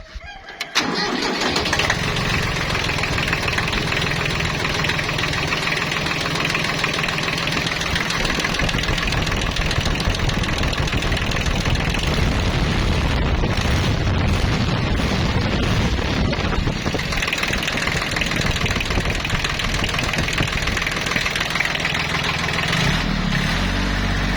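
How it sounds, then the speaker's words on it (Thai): Old Japanese Kubota B1500 tractor diesel engine cranking and catching, then idling with a loud, steady, knocking clatter that runs on throughout. "นี่ครับเอาติดเครื่อง"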